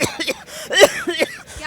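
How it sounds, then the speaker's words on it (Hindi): A man coughs in several harsh, rough bursts with throat-clearing sounds, close and fairly loud over a short stretch. "वही पुरानी खानदानी खांसी।"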